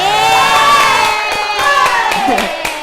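A classroom erupts in cheering and clapping for group 1 during a microteaching session: excited young voices shout and whoop over scattered sharp hand claps, loud and close.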